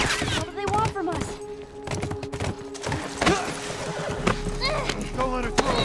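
Horse hooves clatter in a galloping rhythm within The Last of Us, with snorts and a whinny among scattered gunfire, while voices shout over the action.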